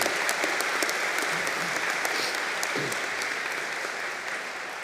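Audience at a college convocation ceremony applauds, a sustained, even wash of many hands clapping that fills the hall and holds steady for several seconds.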